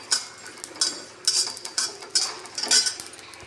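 Whole spices for mutton masala being dry-roasted in a pan rattle and scrape in short bursts as they are stirred, a brisk, close, crisp rustle with brief pauses and no talk.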